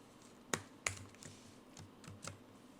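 Someone typing code on a computer keyboard: a few sharp, close key clicks, two of them louder, then softer scattered taps in a quiet room.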